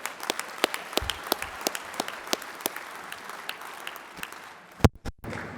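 Scattered clapping from an audience at a Better Business Bureau anniversary awards dinner, a crisp patter of hands that thins out toward the end, with a couple of louder bumps near the close.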